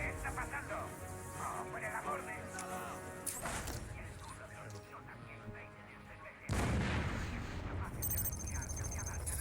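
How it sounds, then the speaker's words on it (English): A loud explosion and heavy gunfire-like blasts from Batman: Arkham City gameplay, with a sudden booming crash partway through over dense game effects and background sound. "That was a pretty loud explosion."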